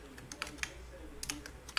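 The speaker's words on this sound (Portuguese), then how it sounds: "Eu tô digitando um pouco confuso porque eu cortei o dedo e o indicador" Typing on a computer keyboard during a data science livecoding session, a loose, irregular run of light key clicks close to the microphone with short pauses between bursts, no speech.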